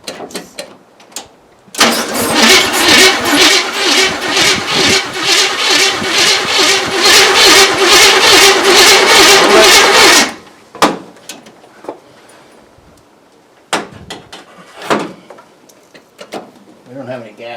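A Chevrolet K20 truck, sitting unused for 20 years and with no gas in it, cranks on its starter for about eight seconds in a loud, rapid, rhythmic churn that stops abruptly and is followed by scattered clunks and faint handling noises.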